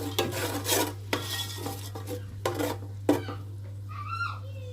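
Saag ingredients are stirred with salt in a pot, making repeated scraping strokes in an irregular rhythm over a steady low hum, with a brief faint sizzle near the end.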